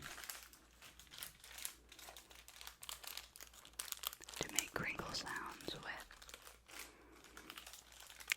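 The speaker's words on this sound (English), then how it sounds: "Now we have a parchment ball. To make crinkle sounds with." A ball of parchment paper is squeezed and crinkled close to the microphone, giving dense crackling bursts that swell in the middle, with soft whispering alongside.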